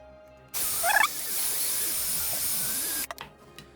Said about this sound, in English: I'm going to drill a hole in the top of the piece here.